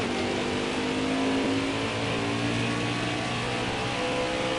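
A race truck in NASCAR Heat 4 accelerates off pit road and back onto the Atlanta track after a four-tire stop, its engine droning steadily and loudly alongside other trucks.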